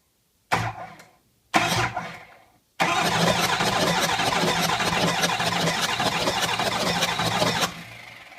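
Ford 6.0 Powerstroke diesel with a hydrolocked cylinder cranked on the starter to clear it, two short loud cranking bursts followed by one long sustained crank that then cuts off.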